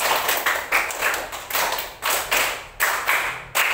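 A class of students claps out a rhythmic counted pattern together, sharp bursts of group clapping in short regular groups separated by brief pauses, close and moderately loud with no talking.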